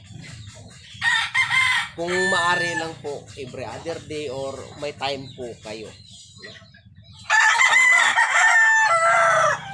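A gamecock crows loudly twice, once near the start and again toward the end, with clucking in between while someone talks nearby.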